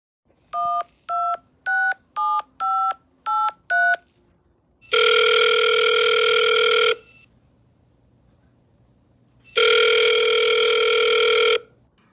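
Telephone keypad tones beep in a quick run of seven, followed by two long, loud electronic ringing bursts of an outgoing phone call, separated by a pause with a faint hum.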